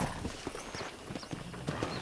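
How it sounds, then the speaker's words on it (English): A horse's hooves clip-clop in a steady trotting rhythm in the video game Red Dead Redemption, quiet and unaccompanied by talk. "let's see if you can still ride a horse."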